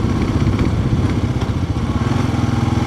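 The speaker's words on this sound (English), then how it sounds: "That's like a lowrider lawnmower." A riding lawn mower engine runs loud and rumbling at close range, with a rough, pulsing idle and some rattling clatter mixed in.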